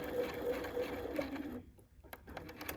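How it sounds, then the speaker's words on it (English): A Bernina 535 sewing machine fitted with a quarter-inch foot, set in a cabinet, runs steadily as it stitches a seam, a continuous close mechanical whir that stops abruptly partway through, leaving a few light clicks. "I'm using the Bernina 535 today in this really nice cabinet. We've got our 1/4 inch foot on, and away we go."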